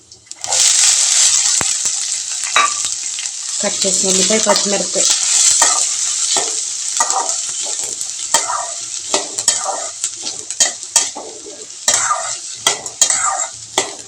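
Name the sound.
frying chopped onion and green chilli in mustard seed tempering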